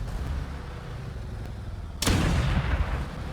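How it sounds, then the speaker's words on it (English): A small gun fires in the aerial combat game Steel Aces, opening with a sharp blast and then a loud, sustained rumbling burst of shots over a steady engine drone. "I wonder if you can shoot this with this little gun"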